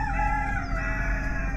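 A rooster crows once in a long, sustained call, clear and fairly close, against a steady low background hum during an early-season snowstorm.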